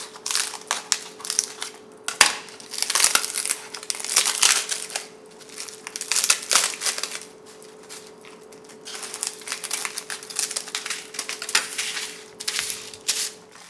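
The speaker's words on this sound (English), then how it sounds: "Let's separate flesh from these bones and all this stuff." Dried pollock flesh being torn and pulled from the bones by hand, close crackling and crunching in irregular bursts with short pauses, dry brittle fibers snapping and rustling.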